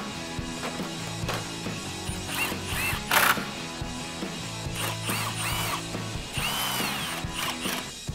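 A power tool bolts a factory grille down on a RAM 1500 pickup, giving repeated ratcheting, whirring bursts of varying length, close and steady, with no talking.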